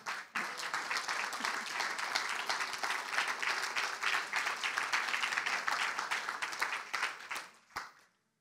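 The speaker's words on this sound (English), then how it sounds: "Hand clap to the Lord." A church congregation claps in praise, a loud, fast, steady wash of many hands that runs for several seconds before tapering off and stopping near the end.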